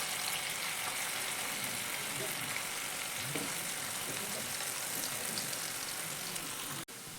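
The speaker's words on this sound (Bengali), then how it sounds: "গরম তেলের মধ্যে একে একে স্ন্যাক্সগুলো ছেড়ে দেবো" Semolina snacks frying in hot oil give a steady, soft sizzle with a fine crackling hiss that continues without a break, quiet and close, with a brief clunk at the end.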